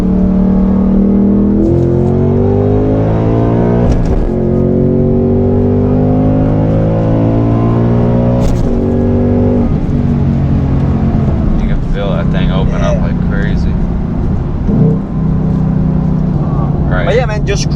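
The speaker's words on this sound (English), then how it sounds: "Alright, so I'm gonna do a little quick pull right here," Ford Mustang with a Coyote V8 pulling hard in second gear, a loud steady engine drone whose pitch climbs in stepped harmonic bands, heard from inside the car with a voice speaking over it.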